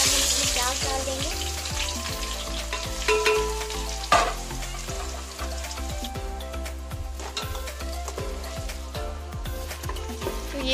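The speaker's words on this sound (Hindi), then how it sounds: "उसके बाद हम इसमें प्याज डाल देंगे।" Sliced onions fry in hot mustard oil with a loud, dense crackling sizzle, while a spatula stirs through them in repeated scrapes and knocks that keep a steady rhythm throughout.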